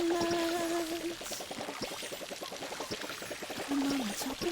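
Continuous splashy pouring from a watering can onto plants in the video game Palia, steady and close, with light melodic game tones at the start and again near the end.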